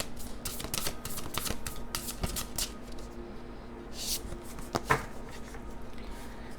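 Tarot cards being shuffled during a card reading, a steady run of papery riffling and flicking strokes with a few sharper snaps, close and moderately loud, with no talk.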